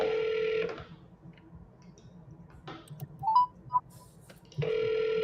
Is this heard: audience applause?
no